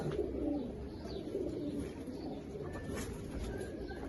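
Desi pigeons coo steadily and softly close by, a low rolling murmur repeating over a faint background hiss, with no voices.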